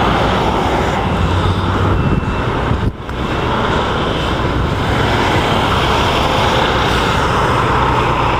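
An Apache helicopter roars loudly and continuously overhead, a dense, steady engine and rotor rumble with a brief dip partway through.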